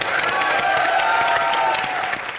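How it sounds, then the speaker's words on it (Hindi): Studio audience applause and cheering for Jasmine on a live Hindi comedy show, dense and steady throughout at close range, with some whistles and faint voices mixed in. "अभी जोरदार तालियां जैस्मिन।"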